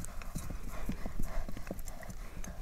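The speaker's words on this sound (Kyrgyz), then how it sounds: "Жакшы Нурбек, болду эми ысыкта көп кыйнабайлы аттарды." Horses' hooves clip-clop at a horse market, a clear run of evenly spaced hoofbeats at a moderate pace over a low outdoor background.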